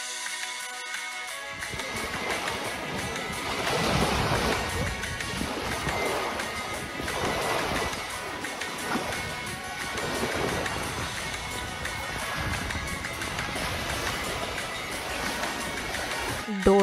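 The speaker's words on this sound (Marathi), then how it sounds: "असा हा बीच, अगदी सुंदर आणि त्याचं पाणी अगदी क्लिअर आहे" Steady ocean waves roll onto a clear-water beach near a campsite, a continuous wash of surf with gentle surges, blended with wind rumble against the microphone.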